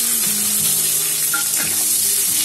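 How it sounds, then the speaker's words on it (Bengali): Finely chopped onion, with potato, frying in a pan for a Bengali chutney-style katla fish dish: a dense, loud, continuous sizzle close up, with light stirring scrapes and no speech. "আলুটা পেঁয়াজটাকে ভেজে নেবো"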